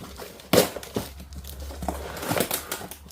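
A Pico ST400 starter pack is ripped open, with sharp crinkling and tearing bursts of packaging followed by scattered rustles, close and loud.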